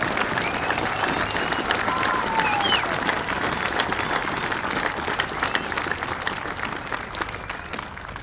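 A crowd at a police class attestation parade breaks into loud, sustained applause, many hands clapping densely and tapering slightly toward the end.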